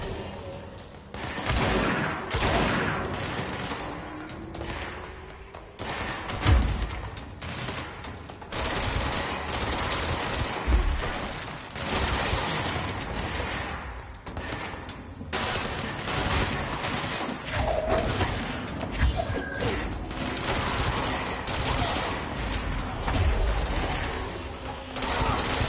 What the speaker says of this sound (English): They've got sniper rifles now.